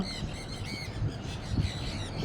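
Pet parrots, sun conures and lovebirds, squawking at a bird shop: shrill, piercing calls repeat in quick bursts at moderate volume, overlapping into a restless chorus.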